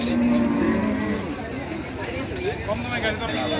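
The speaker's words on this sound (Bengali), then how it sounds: "খুবই সুন্দর এই গরুটি" A cow at a busy Eid sacrificial cattle market in Keraniganj, Dhaka, gives a low lowing moo near the start, while a crowd murmurs and people talk throughout.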